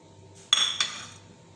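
A fork stirs chicken and vegetables with chilli garlic sauce and ketchup, giving two sharp metallic clinks against a dish in quick succession, close and fairly clear with a faint ringing tail.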